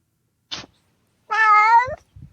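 A hungry cat lets out one loud, drawn-out, wavering meow close to the microphone, bracketed by a few short soft thumps and rustles in otherwise near silence.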